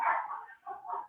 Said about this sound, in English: get the dog in.